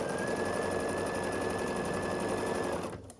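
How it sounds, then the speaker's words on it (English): Sewing machine running steadily as it stitches rows of a patchwork baby quilt, a dense continuous mechanical whir with rapid needle chatter, loud and close, stopping abruptly near the end. "I hold the seams in place as I sew across."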